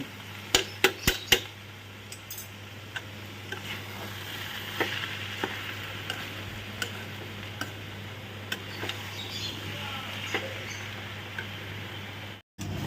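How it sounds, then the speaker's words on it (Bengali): Cabbage sizzles steadily in a pan while a utensil stirs and scrapes, with sharp clicks and taps, especially early on. "একদম ভাজা ভাজা হয়ে গেছে"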